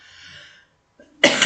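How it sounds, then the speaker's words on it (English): A single sharp cough bursts out close and loud at the end, after a faint tone and a short silence. "probably about time I finish since I'm starting to cough again"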